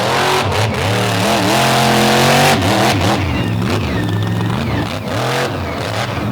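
A monster truck with a home-built engine revs hard on a race track during an all-star championship final, loud, close and continuous, with repeated throttle blips and pitch swoops as it accelerates and lifts.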